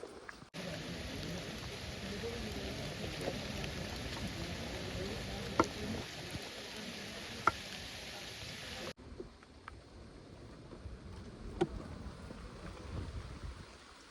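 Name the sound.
heavy rain pouring in forest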